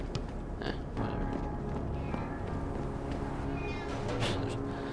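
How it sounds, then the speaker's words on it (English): A cat meows in the video game Deus Ex: Human Revolution, a few short mewing calls over dense game ambience and background sound, moderately loud but partly buried in the mix. "There's a cat."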